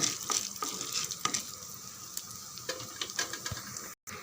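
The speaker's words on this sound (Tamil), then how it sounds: "மிதமான அனலில் வச்சு நல்லா செவர வதக்கிடலாம்" Chana dal and urad dal fry in a pan over a medium flame, giving a steady close sizzle with scraping stir strokes throughout and a short gap near the end.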